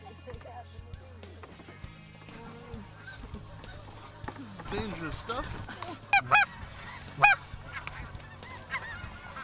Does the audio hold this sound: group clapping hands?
no